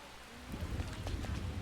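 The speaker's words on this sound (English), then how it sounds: "Torrential rain." Torrential rain in the video game Persona 5 Royal, a brief steady wash of heavy downpour with low rumbling underneath, swelling louder after a quieter start.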